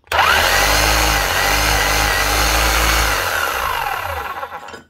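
A Bosch GBH5-38D rotary hammer runs loudly and close for about five seconds, spinning steadily without its hammer action. It makes a continuous motor whine that rises at the start and winds down at the end.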